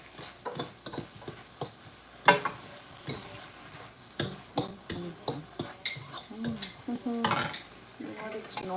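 Szechuan noodles being stir fried in a pan, with irregular clinks and scrapes of utensil against metal and soft sizzling, close and fairly loud, no talk.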